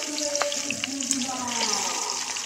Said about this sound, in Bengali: এখন আমি উল্টিয়ে পাল্টিয়ে মাছটাকে ভেজে নিই।